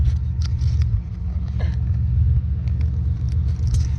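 A car engine idles after its ECU is plugged back in, a steady low rumble with a smoother, even idle, close by, with a few faint clicks and brief human sounds over it.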